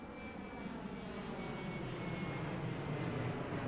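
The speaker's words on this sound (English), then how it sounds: "the plane started humming lowly without warning" An airplane engine hums low and steady, a continuous broad drone that stays even throughout with no talking.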